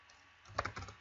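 A few quick, soft keystrokes on a computer keyboard while writing code on a desktop, clustered in a brief burst at low volume.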